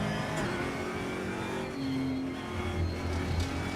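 Race car engine in the RaceRoom sim racing game on PC, a steady mid-pitched drone that shifts gear and revs slightly, held at moderate volume without talk.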